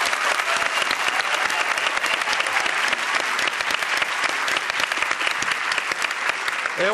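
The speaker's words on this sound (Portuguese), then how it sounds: "Por favor, vamos aplaudir." Loud, sustained applause from a television talk-show studio audience, dense steady clapping filling the whole stretch without a break.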